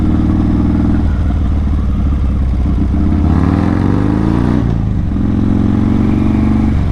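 A motorcycle engine rumbles loudly up close, climbing in pitch as it revs higher mid-way, then dropping back to a steady lower drone.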